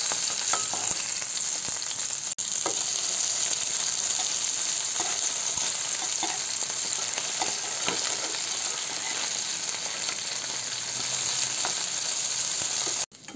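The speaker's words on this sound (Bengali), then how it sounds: "মাছগুলো আমার এক পাশ ভাজা হয়ে গেছে, এখন আমি মাছগুলোকে অন্য পাশে উল্টে দিচ্ছি।" Stinging catfish (shing) fry in hot oil, with a steady, loud sizzle continuing throughout as the pieces are turned over, with a few faint clicks and no voices.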